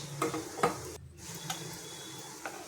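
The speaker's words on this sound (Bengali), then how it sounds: "ভাজাগুলো সুন্দর হচ্ছে এবার আমি আস্তে আস্তে উল্টাবো খুব আস্তে আস্তে উল্টে দেব" Sar bhaja, soft milk-cream pieces, frying in a pan with a faint, low sizzle broken by a few light spatula taps as the pieces are gently turned over.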